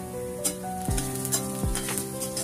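Vegetables and tomatoes sizzling in a pan for an egg omelette, a steady close fry with a couple of quick stirring scrapes and no talking.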